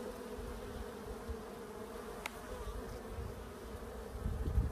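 Honey bees buzzing at an opened beehive during colony inspection, a steady dense drone close by with a few brief knocks and a louder rustle near the end.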